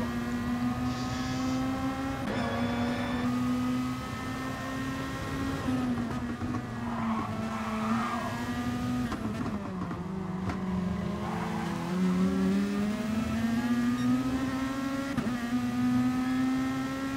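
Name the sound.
race car losing grip, skidding and revving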